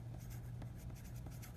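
Pen or marker strokes on paper while a number is written out, faint scratchy marks in short bursts over a steady low hum.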